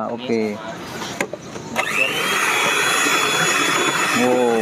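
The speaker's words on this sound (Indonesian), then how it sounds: "Putih telurnya di mixer sampai berbusa ya, mengembang." At a Japanese pancake street food stall, an electric mixer whips egg whites into foam. A steady, loud whirring drone starts partway through and keeps going, with brief spoken remarks before and over it.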